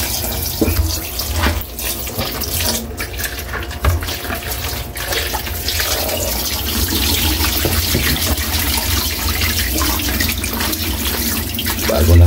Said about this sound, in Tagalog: Hugasan natin ito ulit Kayli para sigurado.